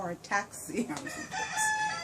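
Roosters crow in the background, with several drawn-out calls overlapping at moderate distance and fairly faint. They sound behind an indoor lesson setting.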